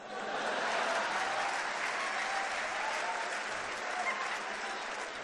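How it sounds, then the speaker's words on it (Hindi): Sustained applause from a live audience at a Hindi comedy poetry performance, dense steady clapping filling the room at even loudness throughout, with no voices heard over it. "ताली तो इस बात पर बजाओगे"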